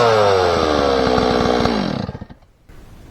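A Stihl 026 chainsaw on a bench runs loud and close with a buzzing two-stroke drone. The engine falls off toward idle, sputters unevenly and dips quieter, then picks up again.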